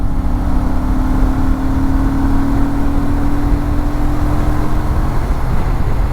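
A 2024 Honda Transalp 750 motorcycle pulls in sixth gear with a steady, loud, droning engine note that rises only slightly in pitch, heard alone with wind rush over the whole stretch.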